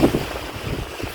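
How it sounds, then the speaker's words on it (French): Outdoor wind rumbling against the microphone, a steady low buffeting roar throughout with no other sounds. "Il y a du vent."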